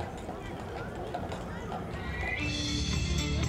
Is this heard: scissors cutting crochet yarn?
no